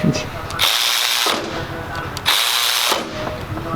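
A Snap-on 1/4 inch extended reach ratchet worked in two long bursts of rapid, loud clicking, close up, separated by a brief pause.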